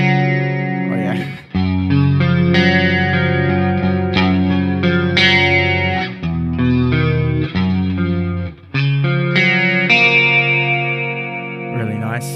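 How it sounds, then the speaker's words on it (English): An electric guitar through the S-Gear 3 amp sim with a Rockman chorus effect modelled on the Rockman amp unit pedal, giving loud, thick, shimmering strummed chords with brief gaps between phrases. "Rockman chorus, inspired by the Rockman amp unit pedal"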